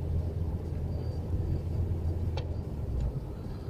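Interior of a moving car, a steady low road rumble and engine drone filling the cabin, with a couple of faint clicks, no speech.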